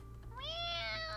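A cat meows once up close in a visual novel game, a clear rising, drawn-out cry over a low steady background hum.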